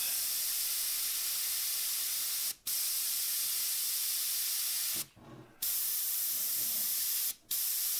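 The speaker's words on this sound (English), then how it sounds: "And then I'll blow over it again" A paint airbrush sprays a fine mist in a loud, steady, close hiss, cut off briefly three times in short pauses and then resuming each time.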